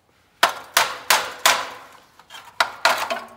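A hammer strikes the crusty back axle housing of a 1950s Dodge Power Wagon truck, about eight sharp metallic blows in an uneven rhythm, close and clear.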